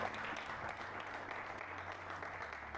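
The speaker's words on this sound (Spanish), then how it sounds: "Dale un fuerte aplauso al Señor" A church congregation at a pastors' seminary in Caracas breaks into applause, a faint, steady patter of many hands clapping with a low hum underneath.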